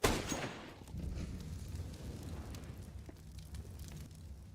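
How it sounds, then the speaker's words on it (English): A flashbang grenade in Counter-Strike on Dust2 bursts with a sharp, loud crack, followed by a fading noisy rumble and scattered game sounds. "Flashbang. Meant to get Naf out of here."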